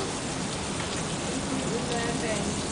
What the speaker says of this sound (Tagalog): Lakas na naman ang ulan, no? Maghapon ang ulan, diba?